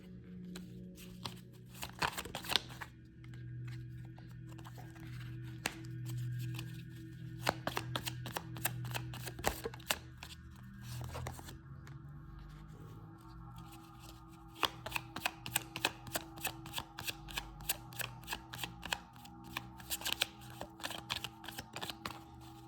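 Oracle or tarot cards being shuffled, a long run of quick papery riffles and snaps, close and fairly soft, with a few pauses and denser bursts toward the end, no talking.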